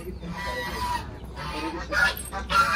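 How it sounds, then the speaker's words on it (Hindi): Kadaknath black chickens cluck and call at a village farm, the sounds close and fairly loud in bursts toward the end, with rustling farmyard noise and no clear talk. "ये देखो ब्लैक मुर्गा पूरा"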